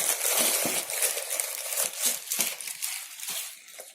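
Crinkly crackling and tearing as taped packaging on an HP laptop box is pulled open, a busy run of close, uneven rustles and rips with no talking.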